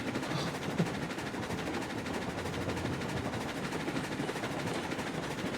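A standard steam locomotive in the railroad game Railroads Online runs along flat ground, giving a continuous, even rumble with a faint rhythmic chuff and clatter throughout.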